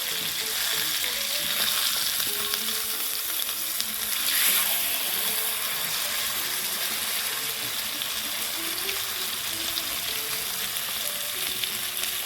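Fish fries in a pan with a steady, close sizzle and crackle that runs unbroken throughout, with faint stirring and a brief watery splash partway in.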